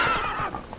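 Roach, a horse in The Witcher 3, gives a brief, loud whinny that tapers off in under a second, with no voices over it.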